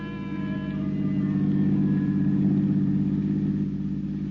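A car engine hums steadily and then pulls away in a 1956 radio drama sound effect, a loud, even drone with no talk.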